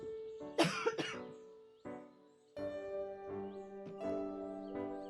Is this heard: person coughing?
yes